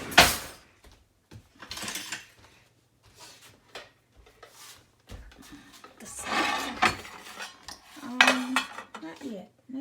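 A metal ladle clanks and scrapes against a pan while butter and scrambled egg cook, in irregular bursts of clatter separated by short quiet gaps.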